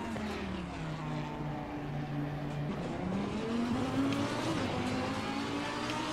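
Race car engine lapping Monza in rainy conditions in Assetto Corsa Competizione, a steady droning whine rising and falling in pitch through gear changes, close and continuous without talk.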